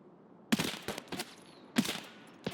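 Two sharp bursts of rapid gunfire as a magazine is emptied in the shooter game Escape from Tarkov, loud and close, separated by about a second, with a smaller crack at the end.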